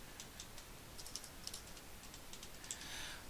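Quick, light typing on a computer keyboard, with a continuous patter of soft key clicks at close range over faint background hiss.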